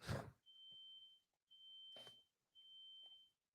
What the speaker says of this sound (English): There's a big truck outside my house naturally backing up.